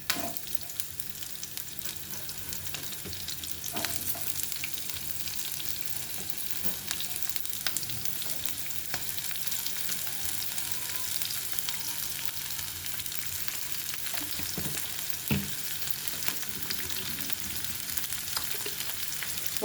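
Green chillies and onions fry in a pan for a Telugu bachali leaf and moong dal curry, a continuous even sizzle with occasional soft stirring scrapes, close by and without any voices.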